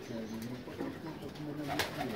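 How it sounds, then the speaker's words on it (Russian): White-tailed pigeons coo in a bright dovecote, soft low rolling calls close by with a brief flutter. "Вот такие вот белохвостые голуби."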